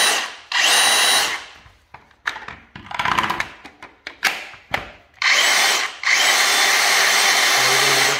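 A DeWalt cordless drill (DCD444B, DCD470 or DCD999 on a FlexVolt battery) revs in several bursts, starting and stopping, with loud high whining runs and some short knocks between them.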